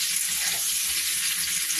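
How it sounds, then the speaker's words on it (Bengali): Vegetables frying in a pan for a Bengali gathi kochu dish, a close, steady broadband sizzle that holds evenly throughout with no voices. "আর সবজিটা দেখুন হালকা লাল লাল হয়ে গেছে, আরও একটু ভাজবো আমরা।"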